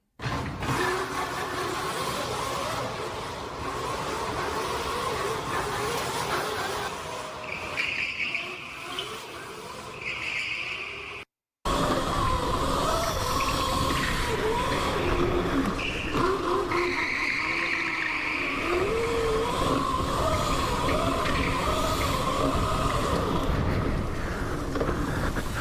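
A vehicle drifting and skidding downtown, with tire squeal rising and falling over a steady loud motor and road roar, continuous apart from a brief gap midway.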